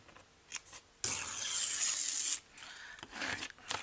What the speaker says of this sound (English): I might have to trim a little bit off of the bottom of that one